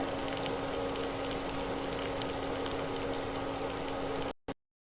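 Hot oil crackles and sizzles steadily as tempering is poured over semolina potato dhokla, a dense close frying hiss that cuts off abruptly near the end.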